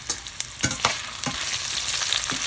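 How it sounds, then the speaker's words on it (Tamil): Oil sizzles steadily with a broad hiss, broken by clinks and scrapes of stirring as drumstick and eggplant pieces fry lightly in a pan close by. "இப்போ இதை லைட்டாக பொரிச்சு எடுத்துக்கொள்ளும்"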